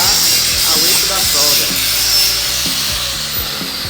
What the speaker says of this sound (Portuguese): Essa é a forma correta de se esmerilhar, com a lixadeira perpendicular ao eixo da